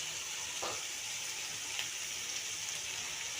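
Raw green tomatoes with a little turmeric fry and get stirred in a pan, giving a steady hissing sizzle throughout with a brief scraping stir near the start.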